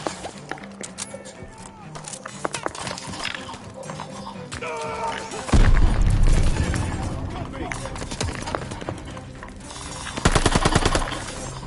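Rapid machine gun bursts crack through a battle scene in a WWII-style video game campaign, mixed with heavy explosions, distant gunfire and shouted commands, the loudest volleys arriving midway and near the end.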